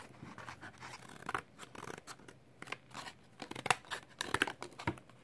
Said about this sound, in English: So, get the scissors.